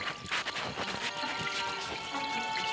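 Water runs from a tap in a steady, dense rush while hands are washed in a cartoon Toca Boo scene, continuous and close with no talk.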